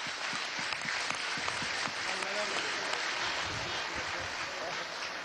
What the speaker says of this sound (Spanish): Un aplauso a Jacobo